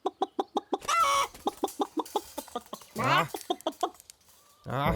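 Cartoonish chicken clucking in a Minecraft game comes in quick rhythmic bursts, mixed with squawks and exclaiming voices, loud and close.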